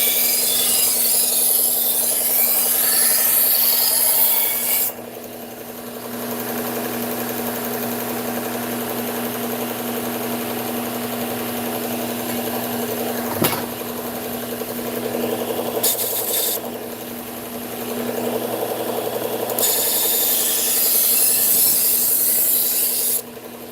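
A kitchen knife being sharpened, a steady, close grinding rasp that continues for long stretches, drops to a quieter hum in places and returns, with a single sharp tick partway through.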